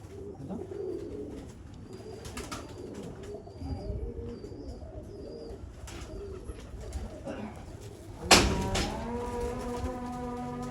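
Mian Nazir bloodline dub pigeons coo repeatedly on a rooftop, soft and low amid background murmur, followed near the end by a louder sharp sound with a ringing tail.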